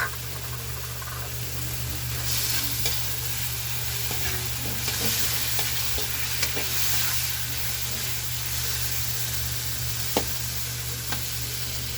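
Shrimp sizzling in a pan of sautéed vegetables while being stirred, a constant close frying hiss with occasional scraping clicks over a low steady hum.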